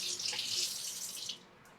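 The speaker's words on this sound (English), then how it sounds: "Just wash off my knife. I'm going to rinse off my cutting board." Tap water runs over a knife and cutting board in a kitchen sink, a bright hissing splash that holds steady for over a second and then cuts off, leaving a few faint drips.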